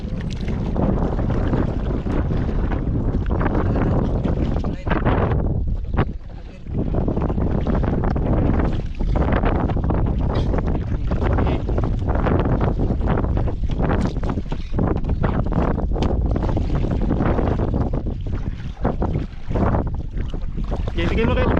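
Wind buffets a fishing boat out on open water, a loud continuous rumble with gusty surges throughout, while voices can be heard faintly in the background.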